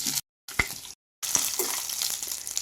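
Mustard seeds and fenugreek seeds sizzle and crackle in about two spoons of hot oil in a pan. The bright hiss comes in short, fairly loud bursts broken by brief silences, then runs on steadily at close range.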